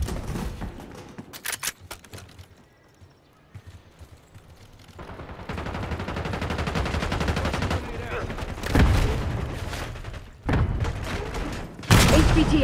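Bursts of automatic gunfire and rapid shots crackle through a Call of Duty: Black Ops 6 multiplayer match, loud and dense in the second half with short gaps between volleys.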